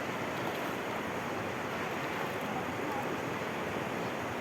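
Strong river current rushing in a continuous broadband wash, faint and steady throughout, with wind mixed in.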